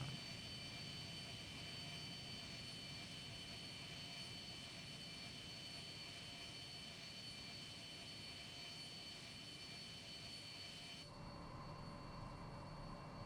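Jet fighter engine roar in Ace Combat 3, a steady dense drone that holds throughout, then thins and softens near the end, with no talking.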